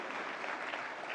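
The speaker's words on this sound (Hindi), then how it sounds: "जोरदार तालियां फिल्मकार के लिए" Audience applause at a national film awards ceremony, a brief, steady wash of many hands clapping heard from a distance, fairly faint, with no voices over it.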